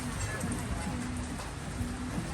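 Rain falls outdoors near a red bridge, a steady dense hiss of drops spreading evenly without pause.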